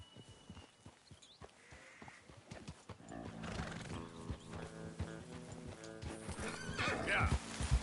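Horses in the Red Dead Redemption 2 video game, with clip-clopping hooves at first, then repeated loud neighs and whinnies over wagon movement and a rising rumble. A man calls out over the animals.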